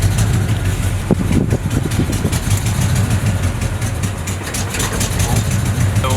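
A 1970 Chevrolet C20 pickup truck engine idles at about 450 rpm with a low, uneven rumble close by, steady throughout with a few rougher sputters early on.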